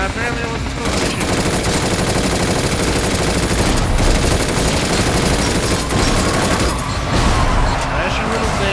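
Dense, continuous automatic gunfire fills the scene as an enemy gun opens fire in the video game Binary Domain, loud and sustained with rapid overlapping shots and a brief lull near the end.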